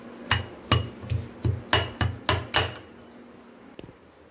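Thuthuvalai leaves are pounded for rasam in a run of eight evenly spaced, solid thuds at a brisk steady pace, close and distinct, followed after a pause by one lighter knock.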